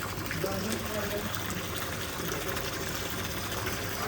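Water from a borewell pump gushes out in a steady, loud, continuous rush, with voices talking over it.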